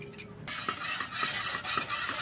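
A spoon stirs condensed milk in a pan over an unlit stove, giving a steady close scraping swish with a few soft clinks, no voices.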